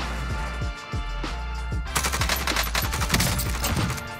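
Rapid bursts of QBZ assault rifle fire from the video game PUBG rattle out in dense, overlapping volleys that grow more intense in the second half, loud and continuous with no speech.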